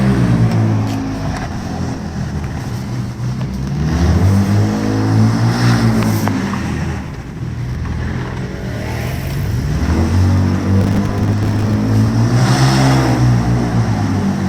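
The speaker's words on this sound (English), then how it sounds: "Let's test it out and see what it sounds like while it's accelerating." A 2025 Ford Ranger Raptor V6 with a Magnaflow full exhaust in quiet mode accelerates to about 3,000 RPM. The loud, close engine drone swells, dips briefly and climbs again in repeated rising pulls.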